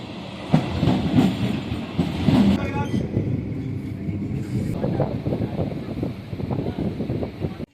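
A passenger train rolls along the rails near Malia station in Hooghly, a steady loud rumble with rhythmic clickety-clack beats throughout, some brief squeals early on, and faint voices mixed in.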